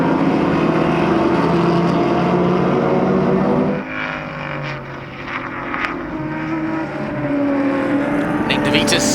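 Vintage race cars at the Sonoma Speed Festival, a Shelby GT chased hard by a 1965 Ferrari 275 GTB Special, roar steadily and loudly throughout, with the engine note easing slightly midway as a commentator talks over them.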